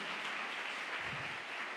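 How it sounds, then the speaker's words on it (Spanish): A church congregation claps in a short, steady burst of applause, soft and somewhat distant, forming an even wash with a faint low thump partway through. "Denle un aplauso al Rey de Reyes"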